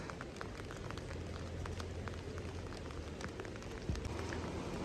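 Steady rain in the mountains patters and hisses on surfaces nearby, with scattered louder drops over a constant wash of noise and no voices.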